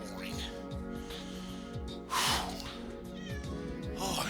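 A cat in the Death End Re;Quest video game gives a single bright meow midway through, rising over continuous background voices and game sound.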